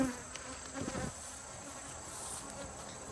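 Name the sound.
honey bees buzzing in hive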